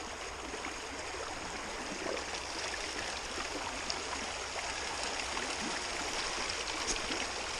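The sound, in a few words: water flowing from a pump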